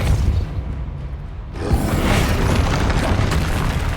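Depulso spell cast in Hogwarts Legacy on Xbox Series S: a sudden loud whooshing boom bursts in partway through, then a broad rumbling roar sustains to the end.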